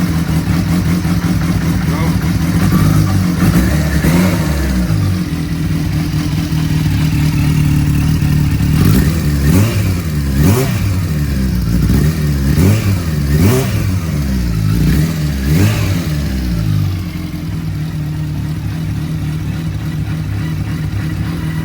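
A modified 300 bhp H2 motorcycle engine with reworked cams idles roughly and fluttery, then is blipped through a series of sharp revs before settling back to a loud, uneven idle.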